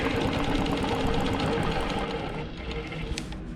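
A longarm quilting machine stitches in the ditch of a stars-and-stripes quilt, guided along a straight ruler, giving a continuous close whirring drone that eases slightly toward the end.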